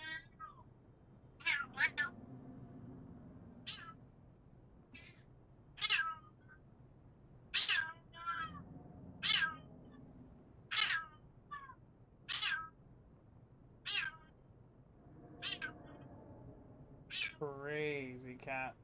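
A restless house cat meows repeatedly, about a dozen short, fairly loud cries spaced roughly a second apart, with a longer wavering yowl near the end over a low background hum.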